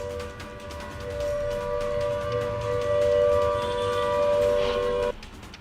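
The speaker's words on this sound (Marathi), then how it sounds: "यावेळी मुंबईमध्ये कशा पद्धतीनं हे मॉकड्रिल होईल याचं दादर इथं आज सायरन वाजवण्यात आले." A civil defense siren sounds for a mock drill in Dadar, Mumbai, a steady sustained wail with a strong tonal hum that holds for about five seconds before cutting off abruptly, fairly loud with no talk.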